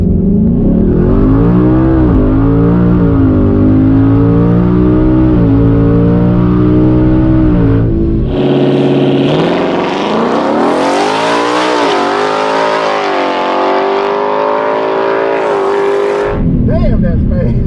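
A twin-turbo 2020 Mustang GT pulls hard down a drag strip, its engine note climbing loud and close through the gears, with a sharp break partway through before it revs on again.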